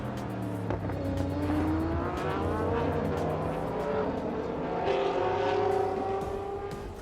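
A GT race car pulls out of pit lane at Sepang International Circuit, its engine note rising through gears, with a tire squeal and a strong passing roar as it accelerates away.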